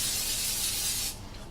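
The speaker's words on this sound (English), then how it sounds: "cooking spray, high heat" Cooking spray hisses steadily into a pan on high heat, ready for searing tuna, as a close, loud burst lasting about a second before cutting off to quiet.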